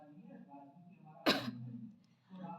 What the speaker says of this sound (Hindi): खांसी आई मुझे एकदम से